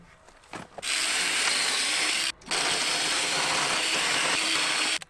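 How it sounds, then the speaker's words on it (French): A power drill bores through a steel hinge strap on a Douglas fir barn door, two sustained loud whirring bursts separated by a short pause, close by. "je vais la percer ici pour visser la porte dedans"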